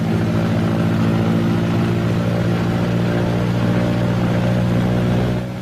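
A B-26 bomber's piston engine runs up to 2,000 RPM for a prop check, a loud, steady, close droning roar with strong harmonic hum that holds for several seconds before easing slightly at the end, with no talk.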